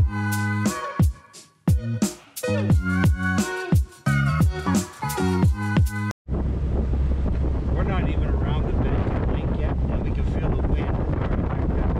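A boat heads out onto a lake in Ontario during extreme heat, with a person talking in the first half before strong wind buffets the microphone and steady engine and water noise take over.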